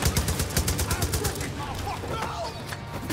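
Rapid machine gun fire in Far Cry New Dawn, a dense burst of repeated shots up close that tapers into softer scattered game noise.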